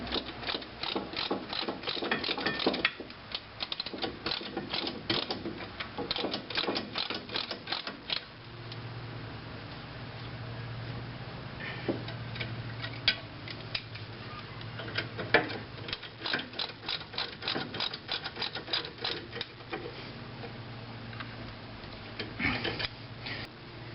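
A torque wrench ratchets 14mm caliper bracket bolts tight on a 2005 Scion tC rear disc brake, with bursts of rapid clicking broken by short pauses and a low mechanical hum, close and moderately loud.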